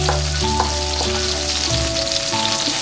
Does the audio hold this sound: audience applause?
no